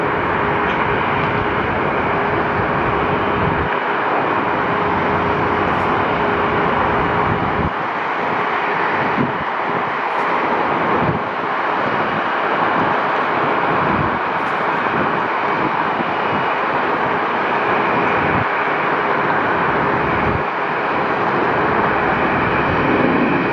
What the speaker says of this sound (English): This is Delta 2444, 23-year-old A319 from LAX coming into 26 left in Vegas.